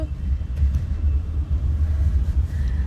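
Low, steady road rumble heard from inside a car moving through traffic, a continuous deep droning hum with slight swells and no distinct horns or voices.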